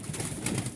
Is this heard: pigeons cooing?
yes